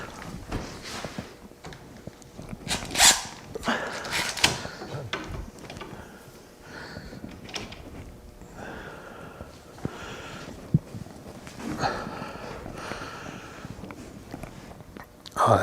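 Long woodworking clamps are cranked down on a glue-up, giving scattered close clicks, knocks and creaks of wood and metal with no steady rhythm.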